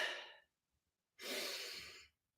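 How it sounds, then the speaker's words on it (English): Two shallow upper-chest breaths, a clavicular breathing demonstration from a singing coach: a short breath fading out, a pause of silence, then a longer airy breath. Both are close and clear with no talking. "this is clavicular breathing, and this is the type of breathing that we do not want to use for great singing"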